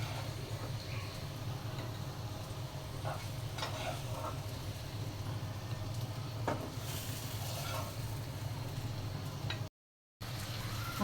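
Eggplant and tilapia fish fry in oil with a soft, steady sizzle under a low background hum. Scattered pops and light clinks come through, and there is a short break near the end.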